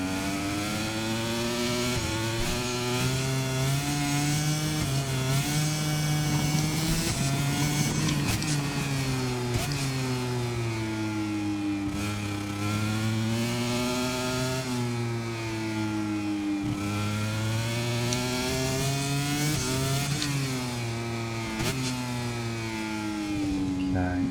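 A KTM racing motorcycle engine in MotoGP 25 howls continuously, climbing and dropping through revs as it shifts through gears, loud and close with no talking over it.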